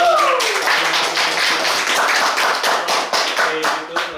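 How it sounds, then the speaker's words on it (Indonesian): Audience applause at an Indonesian career talk event on job searching for fresh graduates: dense, steady clapping from a crowd that carries through the whole stretch with little change in loudness. "Tepuk tangan dulu."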